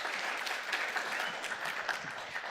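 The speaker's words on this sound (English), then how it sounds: "Can we please give her a round of applause?" Audience applause at a corporate stakeholder engagement event in Cape Town, a steady broadband wash of many hands clapping at moderate level for the full stretch, with no talk over it.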